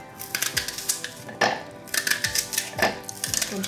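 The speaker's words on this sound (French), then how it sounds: "Je vais couper l'oignon." A knife chopping an onion on a cutting board in a home kitchen, with a quick series of close, sharp taps in uneven bursts.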